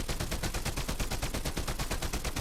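Combat assault rifle firing in the video game Fortnite, a loud, unbroken stream of rapid automatic shots with an even, fast rhythm and no talk.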